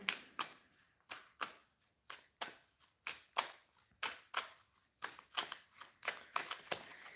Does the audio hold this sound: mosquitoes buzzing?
no